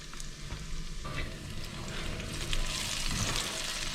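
Onions frying and turning sticky and brown in a pan for a fresh tomato pasta, with a steady close sizzle and occasional stirring scrapes, alone without talk.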